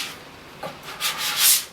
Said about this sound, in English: You want to scrape it.